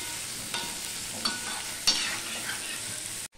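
Potatoes fry in a pan with turmeric and salt, a steady close sizzle broken by a few soft stirring scrapes before it cuts off abruptly near the end.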